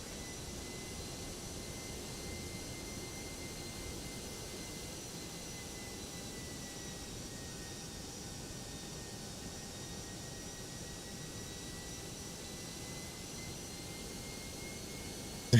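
Simulated jet engines of a Toliss A319 on landing approach in the X-Plane 12 flight simulator give a steady, unbroken whine and broadband roar with a faint high tone, even in level throughout.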